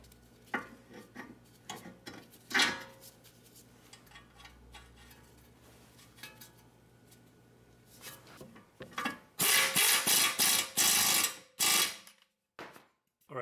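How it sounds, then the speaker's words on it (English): Ratcheting and metallic clicks come from tightening an outer tie rod on a VW Jetta TDI, with scattered taps and handling noise, then a dense burst of fast ratchet strokes near the end. "So now we're gonna install the outer tie rod."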